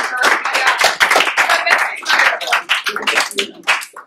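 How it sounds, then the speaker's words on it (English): A small group claps for volunteers at a communication workshop at Cardinal Stritch University, close and uneven bursts of hand claps with voices talking over them. "Let's give our volunteers a round of applause."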